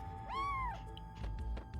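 A cat meows in the Chrono Cross video game, a single rising and falling mew followed by soft game sounds, clear against a quiet background hum.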